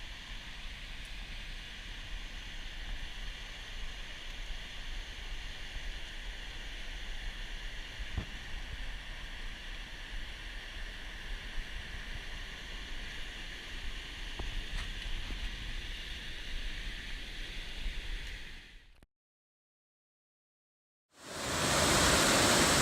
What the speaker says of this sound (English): Here's some more of Evolution Creek.